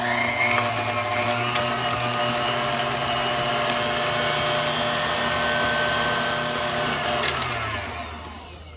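Electric hand mixer beating an egg into sweet potato pie filling, a loud steady motor whir with a scraping rattle from the beaters in the bowl, winding down at the end, with no talking.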